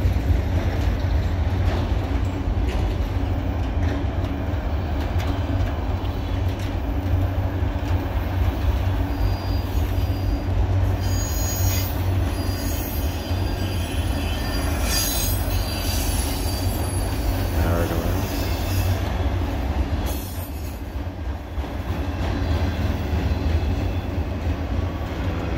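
A CSX autorack freight train with a vintage Burlington Northern car rolls steadily past close by, a continuous heavy rumble with high metallic wheel squeals rising at intervals.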